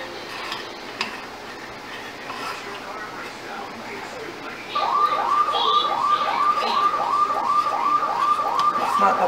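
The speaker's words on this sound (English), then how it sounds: "It's not the police, that's my alarm, driveway alarm." Driveway alarm siren starting partway through, a rapid warbling whoop repeating steadily at moderate distance, preceded by kitchen stirring sounds and a voice talking.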